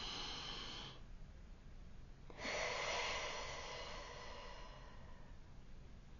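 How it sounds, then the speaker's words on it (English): A single slow, deep breath drawn in and let out, soft and close, one long airy inhale followed by a steady exhale, with no talking. "Take a deep breath with me."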